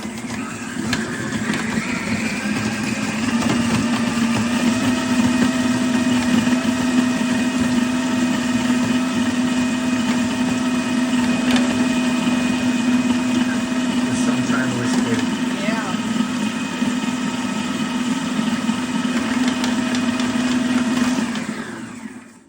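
Electric mixer creaming butter with white and brown sugar for cookie dough, a loud, steady motor whine droning unbroken for about twenty seconds before cutting off abruptly at the end.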